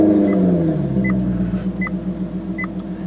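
A Maserati GranTurismo idles in comfort mode with a deep, steady engine rumble. The tone eases slightly after a rev and is broken by a few faint periodic beeps, close by, with no talking.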